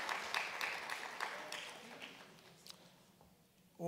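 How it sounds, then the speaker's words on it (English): Applause from an audience at an education department reading strategy launch event in 2022, a dense clatter of many hands that slowly thins and fades toward the end, with no voices over it. "A big round of applause for Zenex Foundation"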